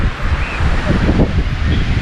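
Arabian Sea waves wash ashore at Padubidri's Blue Flag beach, a loud, continuous roar of surf heavily mixed with wind buffeting the microphone.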